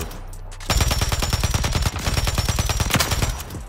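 An LMG fires in Warzone 3 in rapid sustained automatic bursts, a short pause splitting two long strings of loud, punchy shots.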